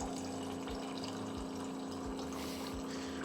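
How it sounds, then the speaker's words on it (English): Water running from a tap or dispenser into a container indoors, a steady low pumping hum with a rhythmic pulse under a continuous trickle, quiet and close. "All you're going to hear is water."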